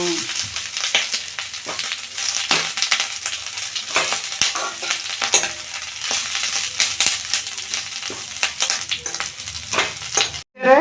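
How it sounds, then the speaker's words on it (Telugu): Curry leaves fry in hot oil in a pan for a spiced curry leaf powder, giving a loud, steady crackling sizzle with scattered sharp pops and stirring scrapes, nearly continuous and close, with no talk over it. "ఇలా గిలగిలాడుతుందా ఇలాగ అనే వరకు ఎగిపోవాలి వేపాలన్నమాట సౌండ్ వస్తుంది"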